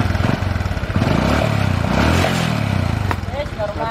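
A Honda Supra 125 motorcycle engine idles close by with a steady, rapid putter after being restarted, running continuously with a slight rev near the end.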